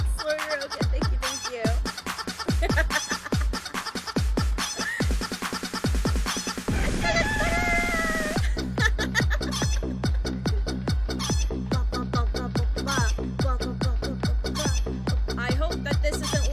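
A chicken dance stream alert plays rapid rhythmic clucking with a rooster crow in the middle, then settles into a steady repeating cluck pattern. The sound is loud and close.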